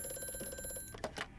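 An old telephone rings in the horror game Amnesia: A Machine for Pigs, a steady metallic bell trill for almost a second before it cuts off, followed by a couple of brief soft knocks, fairly quiet and heard alone.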